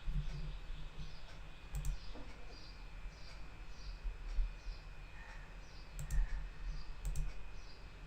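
Keys clatter on a computer keyboard as a program is typed during a computer science revision lesson. The clicks come in quick irregular bursts, close by, over a steady low background hum.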